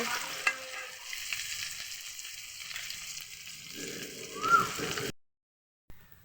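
Fish fries in hot oil with a bubbling, crackling sizzle and some stirring and sloshing, swelling briefly before cutting out to near silence near the end.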